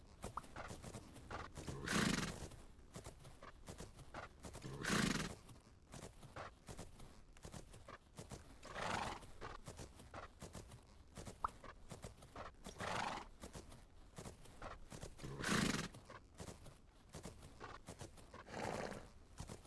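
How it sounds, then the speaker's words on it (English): A horse in a video game cantering around in a circle, steady rhythmic hoof clip-clops with recurring loud neighs and whinnies every few seconds, close and clear with no talking. "Just gonna go canter around in a circle for 15 seconds"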